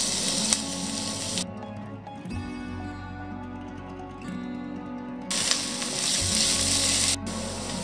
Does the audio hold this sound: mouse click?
no